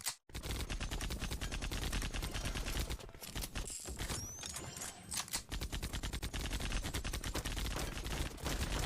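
Rapid, sustained automatic fire from big paintball-style guns in a Valorant-style shooter, dense rattling bursts nearly nonstop with a brief break near the start and a short pause around the middle.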